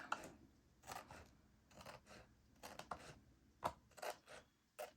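Scissors snipping through paper while trimming a journal cover, a series of irregular crisp cuts and rustles, close and quiet, with no speech.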